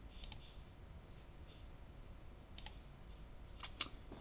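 A computer mouse clicks a few times in quick pairs and singles, crisp and close against a quiet room with no talking.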